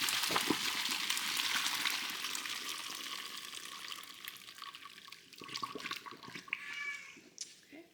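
Boiled potatoes being drained, water pouring and splashing steadily into a kitchen sink for several seconds before trailing off with a few clatters.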